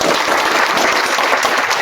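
An audience claps warmly at an academic honoring ceremony at an Algerian university: dense, sustained applause from many hands at steady loudness throughout, with no voices over it.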